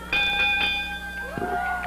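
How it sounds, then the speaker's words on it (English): A wrestling ring bell clangs a few quick times to end a match at a 1980 Memphis TV event, bright ringing tones lingering over faint crowd noise. "Referee says ring the bell."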